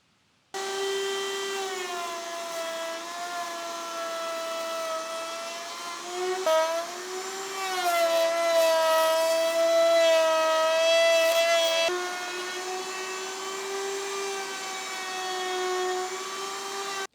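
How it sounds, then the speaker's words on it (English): Power sander working a wood and epoxy clock surface, a loud steady whine with wavering pitch that rises and falls as pressure shifts, running alone without talk. "This ensures that I'm sanding evenly across the entire surface."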